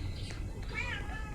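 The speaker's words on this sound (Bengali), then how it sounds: "ঘরে বিলাই ঢুকে গেছে।" A cat meows inside a house, one drawn-out, wavering cry near the middle, with a softer mew before it, over a low indoor rumble and faint background voices.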